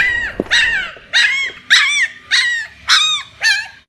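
A dog at a railway station lets out six or seven short, whining yelps and barks in a steady, even rhythm. The calls are close and loud, with no talking.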